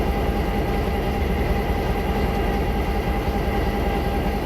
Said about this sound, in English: I'm picking up speed and I'm not going downhill and I'm not putting any power to the locomotive